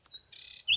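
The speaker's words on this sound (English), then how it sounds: "this is a heartland for nightingales" A nightingale sings in a Sussex nature reserve: a short run of thin, clear whistled notes and a sustained bright trill, close and fairly quiet against a still background.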